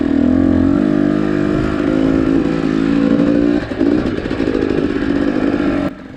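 A two-stroke dirt bike crawls slowly through deep sand, its engine buzzing loud and close at low steady revs with a slight rise and fall, then easing off near the end, with no talk.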